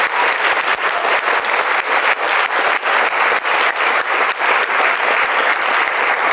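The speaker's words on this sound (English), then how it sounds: "Big applause again." An audience at a live talk in Zurich claps steadily and loudly for several seconds, a dense, continuous wash of applause with no speech.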